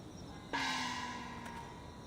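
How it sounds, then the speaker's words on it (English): A night watch gong struck once in a quiet night setting, a single clear metallic strike that rings on with a long sustained tone, faint overall and heard alone. "The night watch gong reverberates into the night."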